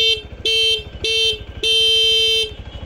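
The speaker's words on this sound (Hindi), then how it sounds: "इसका जो हॉर्न है वो बहुत ही अच्छा और बहुत ही ऑडिबल है।" A 2024 TVS Sport 110cc motorcycle horn sounds close and loud in four bursts, three short toots followed by one longer blast, each a bright buzzing tone.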